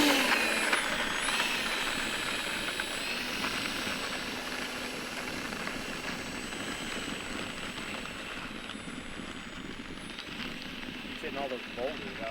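An E-flite F-15 Eagle 64mm EDF RC jet takes off with a loud, steady ducted-fan whine and roar that rises and wavers outdoors, while people talk over it.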